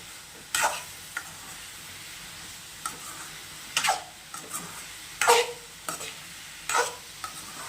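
Mushrooms roast in a pan with a faint steady sizzle, while a spoon scrapes and taps the pan in short separate bursts every second or so, close by.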